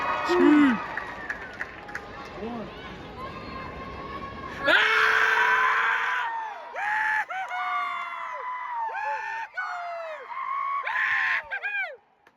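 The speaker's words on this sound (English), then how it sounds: "Let's go, guys. Scream." A crowd at a high school graduation ceremony screams and cheers in repeated loud bursts, with shrill whoops and rising yells between names, the noise swelling sharply midway and staying dense until it cuts off.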